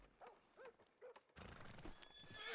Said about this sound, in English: Now, in Dolby Digital Surround Sound, it's the ghost horse.